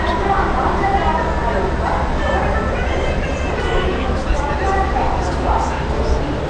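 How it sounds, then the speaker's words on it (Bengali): A passenger train in motion, heard from inside a carriage, gives a loud steady rumble and rolling wheel noise throughout, with faint indistinct voices in the background. "আমরা ট্রেনে উঠে গেছি"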